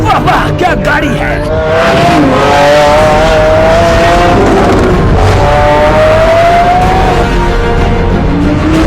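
A car engine revs loud and close, its pitch climbing and falling in long sweeps, with raised voices and tire noise mixed in.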